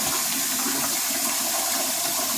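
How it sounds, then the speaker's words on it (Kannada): Cold tap water runs steadily into a kitchen sink as vermicelli is drained, a continuous close, even rush of flowing water with no talking. "ಇಲ್ಲಿ ನಾನು ತಣ್ಣೀರು ಸ್ವಲ್ಪ ಆನ್ ಮಾಡ್ಕೋತಾ ಇದ್ದೀನಿ, ಯಾಕೆಂದರೆ ಸಿಂಕ್ದು ಪೈಪು ಮೆಲ್ಟ್ ಆಗ್ಬೋದು ಅಂತ."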